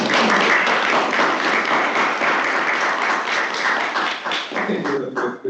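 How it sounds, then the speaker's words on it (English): An audience at a trust board meeting applauds warmly, with dense steady clapping across the room that thins out near the end. "I think we're the first person to get a round of applause"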